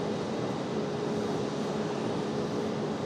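An airliner departs Raleigh Durham International Airport, heard as a steady, broad jet roar that holds constant throughout without talking.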